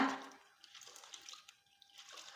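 Lentils for dal curry are washed by hand in water, with a brief splash at the start followed by faint sloshing, swishing and light drips.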